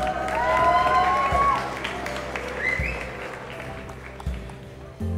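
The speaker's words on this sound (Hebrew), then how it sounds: "כפיים לילדים החמודים האלה" Applause from wedding guests for two small children carrying the rings at a wedding ceremony, a moderate patter of clapping mixed with crowd murmur and a voice speaking over it.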